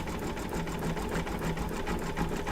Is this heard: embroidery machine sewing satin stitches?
yes